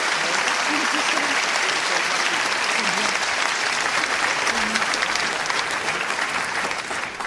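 Sustained audience applause at a comedy show, dense and steady clapping from a crowd, loud and continuous, tapering slightly at the end.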